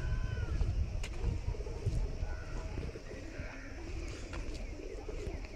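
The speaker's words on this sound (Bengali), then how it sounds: "ওইদিকে পায়রা পাখি, প্রচুর পায়রা পাখি" Pigeons coo softly in the quiet early morning beside Mirik lake, low repeated calls under steady outdoor background noise, with a few faint chirps from other birds.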